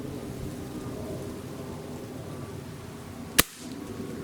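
A single sharp shot from a Barra 1858 air revolver cracks out close and brief over a steady background hiss, followed by quiet.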